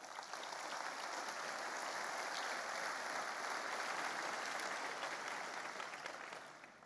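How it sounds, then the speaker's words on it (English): A keynote audience applauds startups in a large hall, a steady, dense wash of many hands clapping that holds evenly for several seconds before tapering off, fairly distant and without talk. "Let's give them a round of applause."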